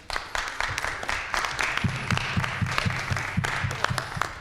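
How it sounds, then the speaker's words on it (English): An audience at a gathering applauds, a dense close patter of many hands clapping that holds steady for several seconds, with a low voice or hum underneath. "So I'd like to give a round of applause to our admin staff."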